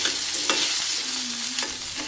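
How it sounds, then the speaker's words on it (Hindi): Potato cubes frying in oil in a pan, a steady close sizzle with soft stirring scrapes and a few brief clinks, no talking. "आलू के हमने क्यूब्स कर लिए हैं और उसको हम इस तेल में डाल देते हैं।"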